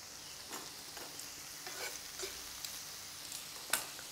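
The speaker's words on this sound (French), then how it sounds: "Je remue de nouveau pour mélanger le tout ensemble." Shrimp and mussel curry with garlic and green onion is stirred in a pan: a few faint, scattered spoon scrapes over a soft, low sizzle, quiet throughout with no talking.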